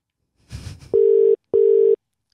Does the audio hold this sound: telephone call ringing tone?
yes